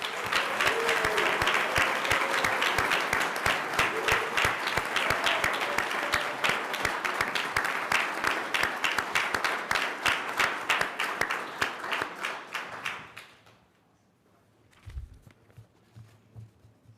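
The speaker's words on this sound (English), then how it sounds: "please join me in a round of applause." Audience applause at a university board of trustees meeting, dense, close clapping that runs steadily for about twelve seconds, then tapers off into near silence with a faint thump.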